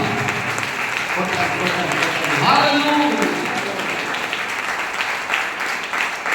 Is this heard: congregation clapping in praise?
yes